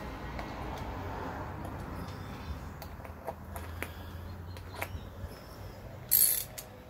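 Small metal parts of a Briggs & Stratton lawn mower carburetor on a Craftsman Platinum 7.25 click and tick softly as a cleaned piece is screwed back in and tightened, a faint ratcheting sequence ending in a brief louder rattle.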